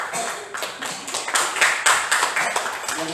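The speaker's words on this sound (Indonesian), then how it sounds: "Tepuk tangan dulu." A classroom of students clapping hands together for a classmate, a short burst of brisk, uneven claps that swells in the middle, fairly close, with no talk over it.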